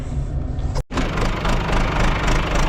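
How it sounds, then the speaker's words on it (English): A farm tractor engine idles while warming up on a cold morning, a loud, close, steady rumble with a brief cutout partway through before the running sound resumes evenly. "we'll let the tractor warm up a little bit"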